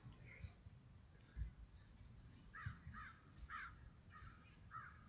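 A crow caws repeatedly outdoors, a rough series of about six calls from a moderate distance, faint over steady background noise and scattered low thumps.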